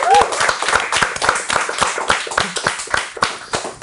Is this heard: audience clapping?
yes